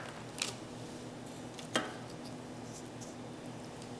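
Knife cutting through a block of frozen raw fudge taken straight from the freezer, two brief crisp crunches about a second apart, close and fairly quiet.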